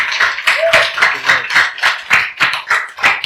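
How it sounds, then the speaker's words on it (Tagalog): A church congregation claps in a steady, even rhythm, many hands beating together in quick repeated claps that fill the room without pause. "Isa pang malakas na palakpak para sa Panginoon"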